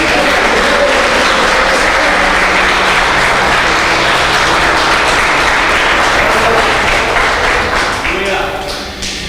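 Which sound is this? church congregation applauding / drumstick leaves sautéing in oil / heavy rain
church congregation applauding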